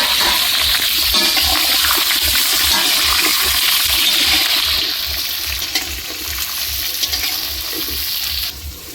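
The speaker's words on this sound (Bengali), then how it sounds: "তেলের মধ্যে আলু দিয়ে দিচ্ছে" Potatoes frying in hot oil over a wood-fired stove, a loud, dense sizzle and bubbling that holds steady, then eases slightly toward the end, with no voices.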